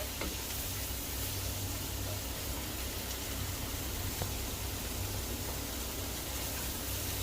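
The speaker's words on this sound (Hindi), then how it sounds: "रेड बेल पेपर, शिमला मिर्च। इसको भी 1 से 2 मिनट तक मैं पका लूंगा।" Red bell pepper fries in a pan with a constant, moderately loud sizzle, an even wash of hiss with occasional faint pops throughout.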